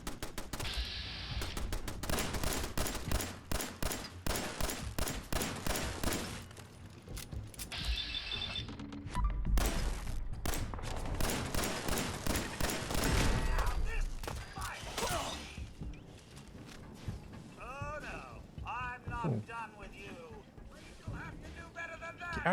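Pistol gunfire in the game Fallout 4, with rapid bursts of shots in quick clusters amid in-game effects and mechanical clicks, while someone talks over the action.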